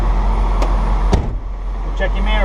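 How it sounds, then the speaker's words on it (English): A truck door shut during a pre-trip inspection: one solid slam near the middle over steady engine idle and low rumble, with a lighter knock just before. "also you're going to want to check and close the door."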